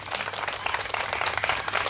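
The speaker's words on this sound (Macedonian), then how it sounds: "Да ги поздравиме дечињата со аплауз, иако грешат, иако се расплачат." Applause for young children at a kindergarten end-of-year performance, many hands clapping in a steady, moderately loud patter across a room, without speech.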